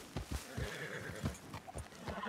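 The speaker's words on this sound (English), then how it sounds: "now this time we're not going to shoot the horse, we're going to lasso him" Horse hooves clip-clopping with a whinny from a horse in the Red Dead Redemption 2 video game, several close, uneven hoof beats repeating across the short stretch.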